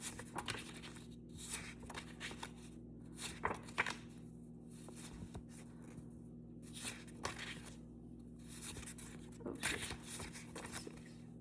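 Paper note cards being shuffled and handled at a speech, giving soft scattered rustles and light taps over a steady low room hum, faint and close.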